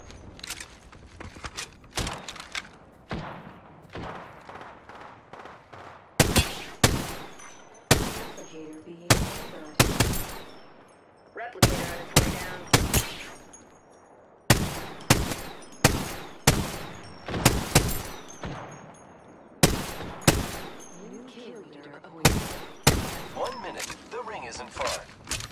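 Repeated bursts of automatic and single-shot gunfire from the Apex Legends video game, set on World's Edge at night, fire in sharp clustered volleys of varying length with brief pauses between, loud and close, over a low ambient game bed.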